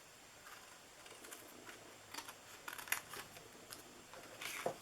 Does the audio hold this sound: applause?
no